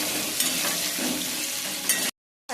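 Chicken pieces with turmeric and salt fry in mustard oil in a pan, giving a close, busy sizzle with scraping stirs, then cutting off abruptly into silence.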